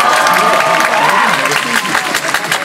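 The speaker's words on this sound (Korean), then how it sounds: "박수." A university orientation crowd in Korea applauds and cheers for a performance, loud and close, with overlapping voices and clapping.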